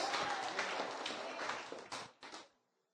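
A church congregation claps and applauds during a service, with a dense wash of hands that breaks into a few last bursts before fading to silence.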